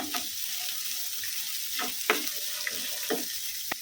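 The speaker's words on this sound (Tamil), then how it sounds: "வெங்காயம் எல்லாத்தையும் மிக்ஸ் பண்ணி வதக்கிக்கலாம்" Chopped onions sauté in a pan for black kavuni rice idli upma, giving a soft, steady sizzle with a few light stirring scrapes, quiet and close.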